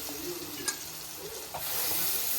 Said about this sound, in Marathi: ह्याच्यात आपण जी चणाडाळ मग अशी भिजत टाकलेली ही आता चणाडाळ टाकून घेऊया